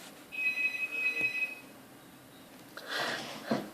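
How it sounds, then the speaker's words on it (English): A telephone rings in a room where a tarantula-keeping hobbyist is talking. A steady electronic ring tone runs for about a second, then goes quiet, and a rustle and a brief knock follow near the mic. "phone."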